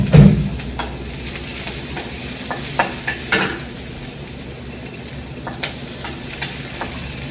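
Chopped onion and garlic hit a hot oiled pan and sizzle steadily at close range, with a few sharp clinks and scrapes from stirring cutting through the continuous frying hiss; no voices.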